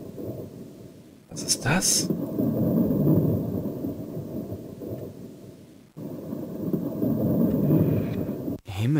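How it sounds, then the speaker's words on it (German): Thunderstorm in the Amiga CD video game Erben der Erde, a heavy rumbling roar of thunder with rain that rolls on for several seconds, cuts out briefly and returns, loud and near, with a short spoken question over it. "dieser Sturm hat sich ziemlich schnell zusammengebraut"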